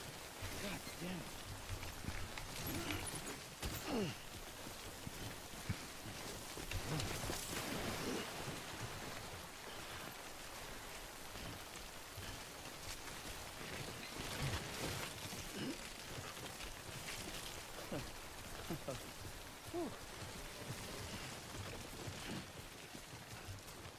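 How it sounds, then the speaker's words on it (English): Rain pours steadily in Death Stranding, a dense, even hiss of falling water that runs throughout at a soft overall level, with no pause. "We're out of the rain, finally!"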